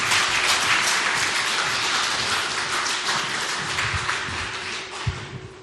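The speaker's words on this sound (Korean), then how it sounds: "마음 모아서 박수로 환영하겠습니다" A church congregation gives a dense, continuous round of applause to welcome the pastor at an afternoon worship service, the clapping blurring into a steady rain-like wash that fades slightly toward the end.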